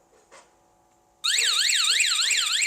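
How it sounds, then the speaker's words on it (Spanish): GPS anti-theft alarm on an electric scooter sounding: after a soft tap, a loud warbling electronic siren starts abruptly and keeps cycling steadily, with no talk over it. "Hasta que no quite la llave no va a dejar de sonar la alarma."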